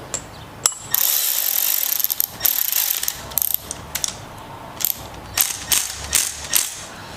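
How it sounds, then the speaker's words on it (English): Tightening a bolt on a Coleman CT200U mini bike with a ratchet: a run of quick metallic pawl clicks in short bursts, close up and fairly loud, with no talking. "and tighten up our bolt here. We want this decently tight, or we will leak fuel."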